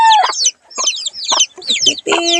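A chicken clucks loudly and close in four or five quick, choppy bursts separated by brief pauses.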